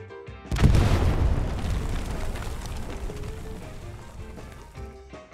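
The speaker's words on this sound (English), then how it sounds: "Or you can place a satchel charge that will destroy them all." A satchel charge blast destroying resource nodes in Hell Let Loose, one loud deep boom that rolls into a long rumbling decay and slowly fades over several seconds.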